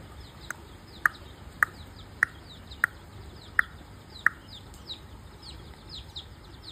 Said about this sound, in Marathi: या सगळ्या अंड्यावरच्या कोंबड्या आहेत